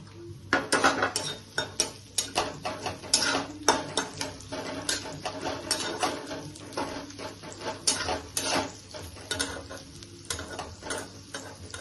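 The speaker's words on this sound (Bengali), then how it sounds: "তেল গরম হয়ে গেছে, পেঁয়াজগুলো দিয়ে দিচ্ছি" Onions dropped into hot oil and fried, with sizzling under frequent clatter and scraping of a spoon or spatula against the pan, close and busy throughout.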